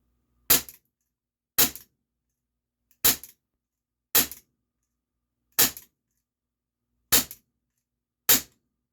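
CO2 air pistol, a Luger P08 or P38 replica, firing seven sharp, evenly spaced shots about a second apart, each a loud crisp crack with a short tail against silence.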